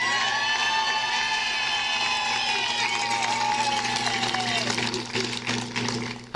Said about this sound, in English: How about a round of applause for him and his family who've put up with all this crap?